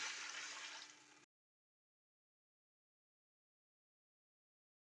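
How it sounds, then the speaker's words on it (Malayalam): Three cups of water poured into a pan while making Kerala-style rava upma, a steady splashing gush for about a second before stopping, with a brief sharp knock at the very end. "റവ അളന്ന കപ്പിൽ തന്നെ 3 കപ്പ് വെള്ളമാണ് ഒഴിച്ചു കൊടുക്കുന്നത്."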